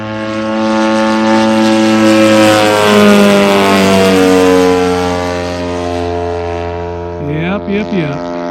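A Flying King model airplane flies after takeoff with a loud, steady propeller engine drone that shifts in pitch as it passes, while people talk nearby toward the end.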